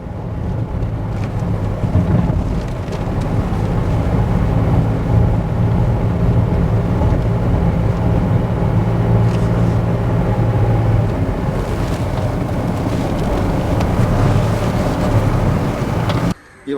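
Renault Triber RXL 2022 climbing a steep incline with the air conditioning running: a steady, loud low engine drone and road rumble with a wind-like wash, continuous throughout.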